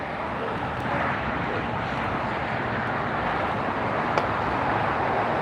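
A China Cargo Airlines Boeing 777F jet at LAX gives off a steady, broadband engine roar that stays fairly even throughout, with a brief sharp tick near the end.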